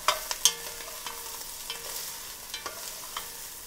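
Vegetables and garlic in olive oil sizzle softly in a pot, a faint steady hiss broken by a few light clicks and pops near the start, with no talking.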